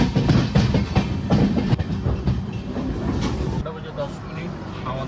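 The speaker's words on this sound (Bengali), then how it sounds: "আমাদের ট্রেন এখন পৌঁছালো নিউ জলপাইগুড়ি।" The 13125 Kolkata–Sairang Express passenger train runs on its rails near New Jalpaiguri, a loud, continuous rumble with rattling carriage clatter heard from inside. The noise holds steady throughout.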